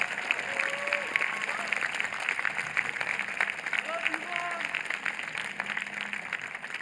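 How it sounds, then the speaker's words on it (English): Crowd applause at a high school graduation ceremony, a large audience clapping steadily for several seconds with faint cheers and whoops rising above the dense, even wash of hands. "give their parents a round of applause for all that they've gone through to assist them"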